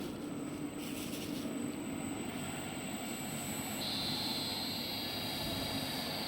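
A 10,000 kg welding roller rig runs under pendant control, giving a steady, even mechanical drone with no breaks; a thin high whine joins partway through and holds to the end.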